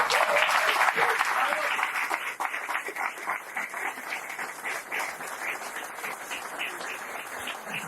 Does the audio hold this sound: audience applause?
yes